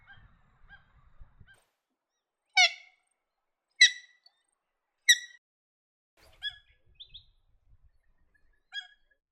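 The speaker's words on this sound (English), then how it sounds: "Their call is a common sound of most wetlands." A wetland bird in New England gives a series of loud, harsh honking calls, about five spaced bursts a second or so apart, clear against a quiet background with faint low rumbles between.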